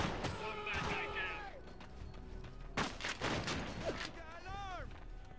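Gunfire in the video game Delta Force: Black Hawk Down, a few loud close shots and bursts between quieter stretches, mixed with whistling game effects and radio chatter, with people talking throughout.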